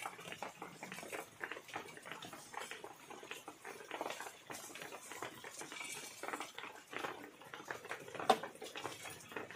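Whole spices dry-roast on a hot tava over a chulha, giving a faint, continuous crackle and patter with occasional light scraping and metallic clinks.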